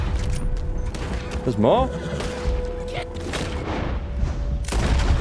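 Gunfire in the video game Red Dead Redemption 2, with booming shots and heavy thuds mixed among game music and effects, while someone talks over it.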